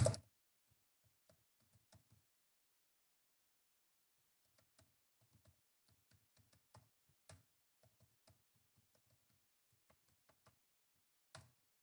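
Sparse keystrokes on a computer keyboard as an email ID and password are typed, soft scattered clicks in short bursts with pauses, close and quiet, no talking.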